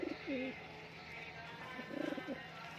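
Pigeons coo in a loft, two short throaty rolling coos about two seconds apart, close and fairly quiet over a faint steady hum.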